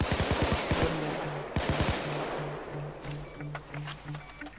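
Rapid automatic gunfire from the video game Payday 2: a quick rattling burst, a second short volley, then sparse single shots over a steady electronic tone and background game noise.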